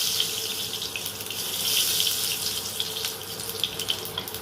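Nigella seeds (kalo jeere) crackle and sizzle in hot oil as a tempering, a steady close hiss of frying that swells slightly and stays even throughout with no talk.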